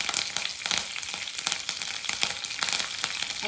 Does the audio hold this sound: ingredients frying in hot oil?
yes